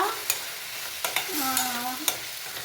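A pan sizzles steadily as a salted masala fries for egg dum biryani, broken by a few quick scrapes and knocks of a spoon stirring close by, with no voices.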